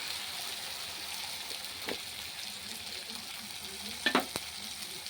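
Chicken curry being stirred in hot oil with garam masala powder, a steady soft sizzle with a few brief scraping stirs near the end, no talk.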